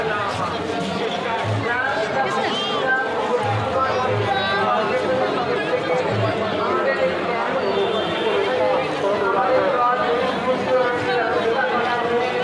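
Crowd babble fills the street at a Rath Yatra festival in Bengal: a dense, steady wash of many voices and shouting, with no single voice standing out, all the way through.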